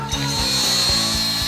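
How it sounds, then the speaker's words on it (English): A cutoff wheel whines steadily at high pitch, with a rhythmic pulsing grind underneath as it bites into a weld bead on a Jeep Wrangler, close and loud. "we'll cut down the weld bead with a cutoff wheel"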